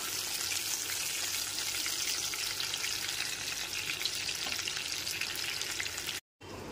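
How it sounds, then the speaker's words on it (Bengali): Fish pieces fry in hot oil in a pan for a light, low-oil fish curry, producing a dense, even sizzle that holds steady throughout, close and fairly soft with no talk, cut off briefly near the end. "মাছের রঙটা যখন সোনালি কালার হয়ে আসবে তখন আস্তে আস্তে মাছ ভাজাগুলো তুলে নেব।"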